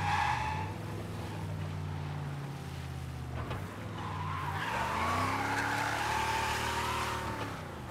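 An old-model car in Mafia: Definitive Edition skids steadily as its engine drones and whines, the tire squeal rising and bending in pitch as it slides, loud and continuous throughout.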